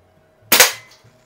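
A single sharp crack from a Benjamin 130 series air pistol shooting at a can, close and loud against a quiet background, with a brief fading tail.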